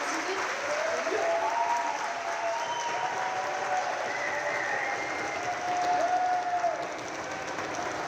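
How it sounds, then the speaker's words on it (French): Audience applause at a round-table event on women in sport, a fairly soft, sustained clapping from the crowd with a brief voice heard over it. "je vais vous demander d'applaudir bien fort Amélie Boyer"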